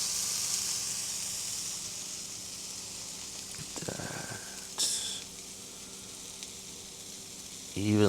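A buttered sandwich sizzles in a hot pan, a steady close frying hiss running throughout with a few brief clatters and a short voice at the end.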